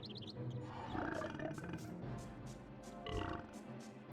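Ron belches in a Harry Potter PC game, a long, deep, rumbling burp with a roar-like growl that swells and fades, followed by a second shorter surge near the end.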